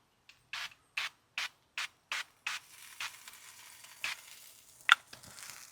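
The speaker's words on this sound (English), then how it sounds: "You can hear the sizzle." A series of short, sharp scraping bursts in an even rhythm, then a softer continuous crackle and hiss of chicken wings frying in duck fat in a pan, with a few louder pops.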